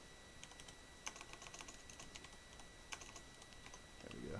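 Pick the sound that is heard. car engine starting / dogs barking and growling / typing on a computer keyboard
typing on a computer keyboard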